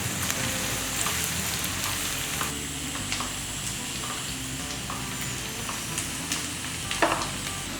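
About ten garlic cloves fry in hot oil in a pan for a Chettinad masala chickpea dum biryani, a dense, steady sizzle up close with occasional stirring scrapes and no voices.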